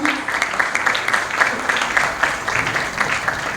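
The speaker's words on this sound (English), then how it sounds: "let us put our hands together and clap for him and his entire team" Applause from an audience at a beauty pageant and fashion show event, many hands clapping in a steady, rhythmic patter at moderate loudness for the organizer and his team.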